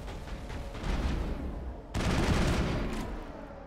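Bursts of rapid gunfire in the video game Mass Effect against the Geth, dense continuous shooting with a sharp louder volley midway, heard without talk.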